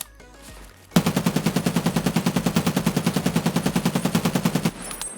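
A SCAR-L rifle in Escape From Tarkov fires one long, rapid, evenly spaced automatic burst while the shooter strafes, loud and close, lasting about four seconds before stopping, with no talk.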